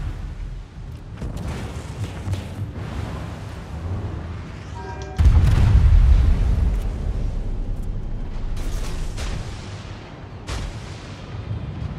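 Naval gunfire from warships in World of Warships, with a heavy booming salvo around the middle and scattered distant cannon thuds over continuous battle rumble; no voices are heard.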